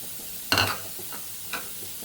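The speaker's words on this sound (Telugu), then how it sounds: "ఇందులో ఎల్లుల్లిపాయ వేసేద్దాం" Garlic dropped into a hot pan, a sudden sharp sizzle that quickly fades, then a brief second crackle over a low background hiss.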